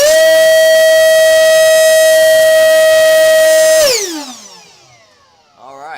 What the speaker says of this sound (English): see what we get on a 0 to full throttle quick burst